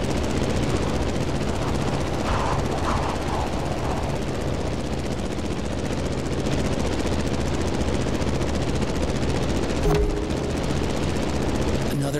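A Granville Brothers Gee Bee R1 racing plane in The Crew Motorfest video game drones with a steady buzzing propeller engine for about twelve seconds, a constant mid-level roar with a brief click near the end.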